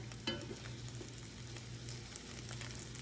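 Salisbury steak patties fry steadily in a pan, a soft, even sizzle with a faint low hum throughout and one small clatter near the start, no voices.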